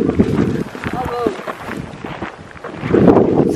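Wind buffeting a microphone outdoors in loud rumbling gusts, heaviest at the start and end, with people talking through it.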